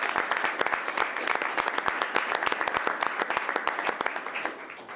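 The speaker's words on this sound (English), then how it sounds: "one round of applause for Brian" A room of attendees at an elected officials' transportation committee retreat gives a round of applause for a colleague: steady, dense hand clapping at moderate distance, tapering off near the end.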